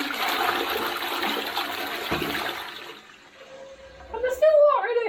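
A toilet in a Bulgarian home flushes after its button is pressed, with loud rushing water that fades into a quiet trickle. Voices then begin talking close by.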